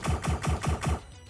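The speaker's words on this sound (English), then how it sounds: "He's not shooting at me. He's shooting at those barrels!" Gunfire sound effect in a 1992 Mortal Kombat audio comic: five quick, evenly spaced blasts in a rapid burst, loud and punchy, followed by a brief fading tail.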